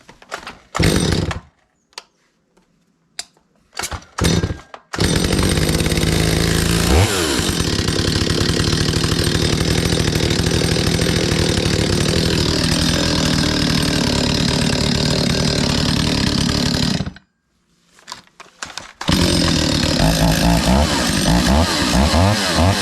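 Stihl chainsaw with a newly replaced fuel primer bulb, pulled a few times in short sputtering bursts before catching and roaring loudly and steadily at close range, cutting out briefly, then revving again.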